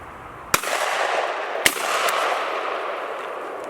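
A shotgun fires low brass shells at skeet targets, giving two sharp outdoor reports about a second apart over steady background hiss, with no talking.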